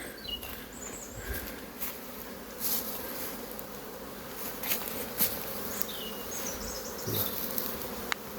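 Honeybees buzz steadily around hives in a springtime apiary, a dense continuous hum with individual bees passing close now and then, no voices over it.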